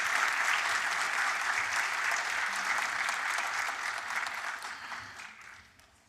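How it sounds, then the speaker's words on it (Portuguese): Warm audience applause for award honorees at a morning prize ceremony, a full, steady wash of clapping from a large crowd that holds strong, then fades out near the end. "Nossos calorosos aplausos aos ilustres homenageados desta manhã."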